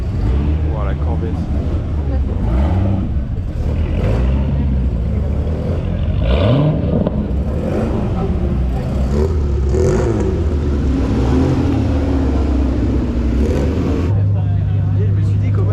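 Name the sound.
Corvette sports car revving on a race circuit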